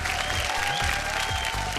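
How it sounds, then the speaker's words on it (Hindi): A television reality-show studio audience breaks into loud, sustained applause for four contestants, a dense crowd clap over a faint musical tone. "चारों मेम साहब खातिर जोरदार ताली"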